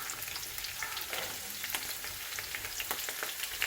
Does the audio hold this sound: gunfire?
no